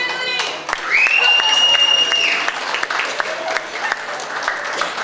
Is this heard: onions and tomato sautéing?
no